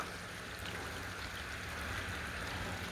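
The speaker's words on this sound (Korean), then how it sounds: "자, 빗방울이 좀 심해지는데" Rain falling steadily onto a pond or lake during bass fishing, a soft, even wash of drops on the water heard outdoors, quiet and continuous with no voices.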